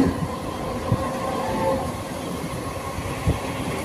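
A train runs fast on the Naihati line near Hooghly, giving a steady loud rumble with a couple of rhythmic wheel clunks over rail joints, heard from inside the carriage without speech.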